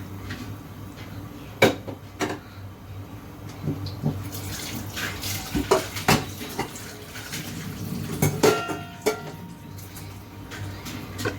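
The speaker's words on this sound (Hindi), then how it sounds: "इसमें मैं ये 4 प्याली जो है यखनी के और 1 प्याली इसमें पानी की ऐड करूँगी।" Chicken stock and water are poured into a pot of rice for yakhni pulao, bringing close splashing and trickling pours with intermittent clinks of a metal cup against the pot, and no voices.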